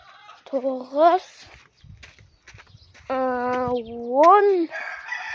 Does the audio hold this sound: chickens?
yes